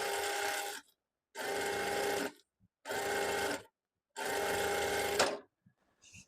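A sewing machine runs in four steady bursts of about a second each with brief silent gaps, stitching a fabric strip for an Afghani trouser.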